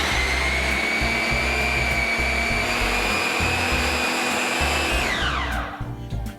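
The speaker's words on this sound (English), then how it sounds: "put it into the food processor, process it up until it's kind of a grainy texture" A Ninja food processor grinds ingredients to a grainy texture with a loud, steady high-pitched motor whine close by, then the motor switches off and winds down near the end, with no talk.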